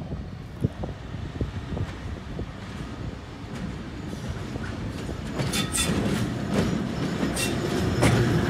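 An old train in Georgia moving along the tracks, clicking and clattering with occasional squeals, growing louder and fuller as it passes close by.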